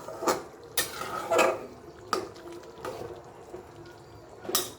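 Cut potatoes go into a pan of spicy mutton being browned, with a handful of clattering knocks and scrapes of a spoon against the pan and soft wet stirring between them.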